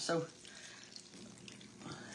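Water is poured into the bottom of a pan holding sausages, a steady close hiss and trickle that swells at the start and end, with faint voices in the background.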